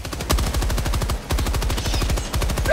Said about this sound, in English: I got my machine gun, maybe.